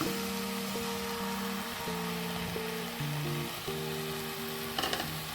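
Three beaten eggs hit frying pennywort (vallarai keerai) greens in a pan, giving a steady, soft sizzle under a faint tonal hum, with a brief utensil clatter near the end.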